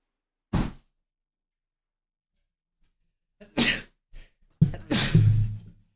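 A single sharp sneeze rings out near and loud, followed by a quiet gap and then a few short breathy bursts and a louder snort-like exhale.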